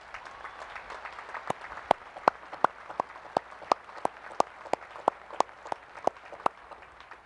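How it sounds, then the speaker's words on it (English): Applause at the U.S. Naval Academy commencement ceremony, a broad crowd clapping with a strong, regular rhythmic beat of sharp, loud, unified claps over a softer, diffuse background of scattered hands. "How about a round of applause for all those folks?"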